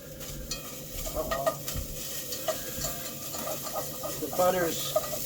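Bacon frying in a pan crackles quietly under a steady sizzle, with scattered scraping and tapping, and a voice faintly present in the background.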